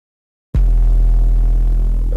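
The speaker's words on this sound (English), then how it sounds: "we're gonna click this distortion plugin in on" A heavy 808 bass note run through a Waves Berzerk distortion plugin starts abruptly and sustains as a loud, gritty low rumble with buzzing overtones.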